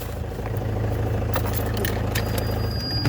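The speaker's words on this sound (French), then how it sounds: "Attends, je vais couper la voiture." An Opel Astra G 2.2 DTI diesel engine idles with a steady low clatter and light rattles, then dies away in the last moment as it is switched off. It is close and fairly loud, and no one speaks.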